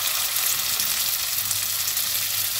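Ginger, lemongrass and shallots fry in hot oil with chili sate as the base of a chicken hotpot broth, a loud, dense, continuous sizzle close by with no talking.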